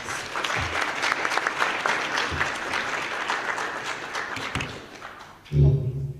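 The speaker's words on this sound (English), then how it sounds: "And a round of applause." Applause from an evening lecture audience at the University of Waterloo, a steady dense clapping wash filling most of the stretch, then cut off by a few louder close thumps near the end.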